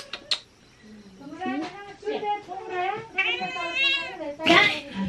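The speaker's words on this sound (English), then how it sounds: "And this cat keeps wanting" A cat meows repeatedly for food at a meal table in a village home in Nepal, giving several drawn-out, rising cries, with people talking nearby between and over the calls.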